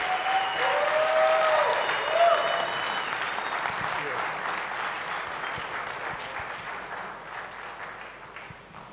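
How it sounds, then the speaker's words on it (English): An audience at a business and entrepreneurship mentorship class breaks into loud sustained applause that slowly fades, with a few voices and a short whistle-like tone early on. "let's give another big round of applause to Advocate"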